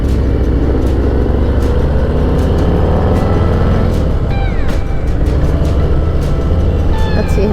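A Harley-Davidson Heritage motorcycle engine rumbles loudly and continuously up close as the bike pulls away, with a strong low drone throughout and faint higher whines near the end.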